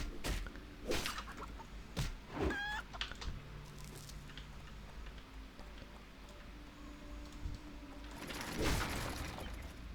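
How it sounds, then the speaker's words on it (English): Mechanical chickens in the video game Turtle WoW, in the goblin starter area, cluck and squawk in short bursts, with a rooster-like crow among them, over steady game ambience. "Collect 5 mechanical drumsticks from mechanical chickens."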